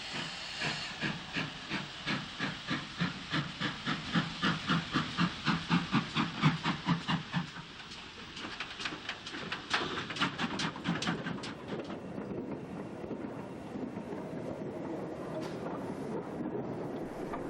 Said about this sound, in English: the pannier tank pulls forward to run round its train